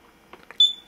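A Keysight U1273A handheld multimeter gives a single loud, sustained continuity beep, a pure high tone lasting about a third of a second after a couple of faint clicks, near and alone.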